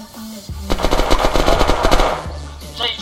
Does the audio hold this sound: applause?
no